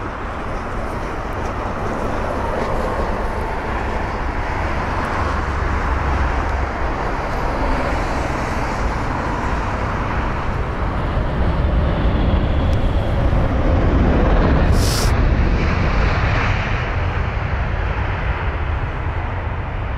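A five-year-old Boeing 787 airliner arrives at London Heathrow, its engines making a steady, broad roar that holds loud and continuous throughout, with no one talking.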